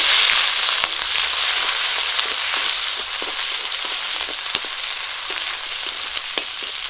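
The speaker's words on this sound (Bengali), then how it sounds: "মাছ ভাজা তেলে আমি পেঁয়াজ কুচি আর কাঁচা লঙ্কা চিরা দিয়ে দিচ্ছি।" Chopped onion and slit green chillies sizzle in oil left from frying fish, a close, steady hiss with sharp crackles and pops scattered throughout, no voices.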